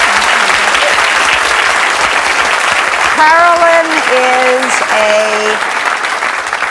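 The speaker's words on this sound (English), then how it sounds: "little applause" A talk-show studio audience gives loud, continuous applause for a guest, a dense clapping roar that holds steady while a voice briefly speaks over it midway.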